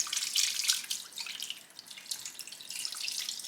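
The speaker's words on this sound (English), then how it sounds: "I'm gonna add the chicken stock that has no salt." Unsalted chicken stock pours into a turkey roasting pan, a soft splashing trickle that swells and fades over a few seconds with no talk.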